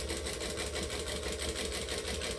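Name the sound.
sewing machine stitching a tote bag seam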